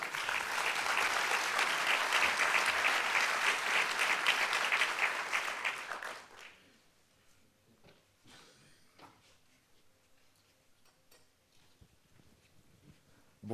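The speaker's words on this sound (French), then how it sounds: "Je vous demande d'applaudir très chaleureusement Lucien Salemi." Warm audience applause at the opening of a travel entrepreneurs' conference, dense and steady for about six seconds, then fading into a quiet room with faint shuffling and a few scattered sounds.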